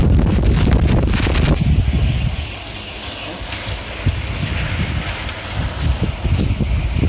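Strong cyclone wind from Cyclone Nivar in India roars and buffets the microphone in loud gusts, easing into a steadier rushing blow with occasional rattling bursts.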